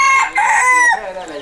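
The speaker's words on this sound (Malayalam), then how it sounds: "പിന്നെ കുറച്ച് തൊപ്പിക്കോഴികളുടെ നാടൻ കോഴികളുടെ കുഞ്ഞുങ്ങളാണ്." A farm rooster crows loudly and close by in a single drawn-out call, among young country hens and chicks of crested and native breeds, with no one talking.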